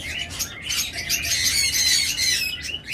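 American White breed birds in a pet market give repeated loud, shrill squawks and chirps close by, overlapping in bursts with no one talking.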